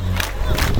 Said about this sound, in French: Applaudissons.